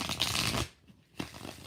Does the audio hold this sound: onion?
no